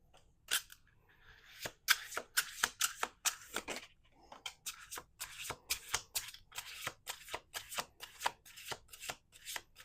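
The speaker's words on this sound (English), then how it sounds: "We're going to do two more shuffles." Tarot cards shuffled by hand, a rapid series of crisp riffling bursts close by, clustered in quick rhythmic runs with brief pauses, fairly quiet with no speech.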